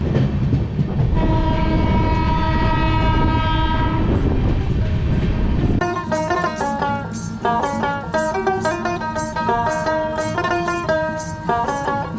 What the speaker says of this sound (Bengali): শক্তিগড় স্টেশন অবধি ট্রেন খুব দ্রুত গতিতে চালিয়েছিল।